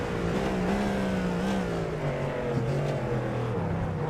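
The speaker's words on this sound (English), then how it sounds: "let's ride on board and listen in with the Azz Tech Racing black car" An onboard prototype race car engine from a sim race at COTA in iRacing drones loud and continuous, its pitch wavering up and down through shifts and corners.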